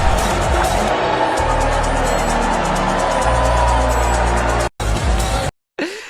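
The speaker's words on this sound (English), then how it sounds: "So you can hear them booing there." A crowd at a victory party boos loudly and steadily, a thick wash of voices, broken by a couple of brief cuts near the end.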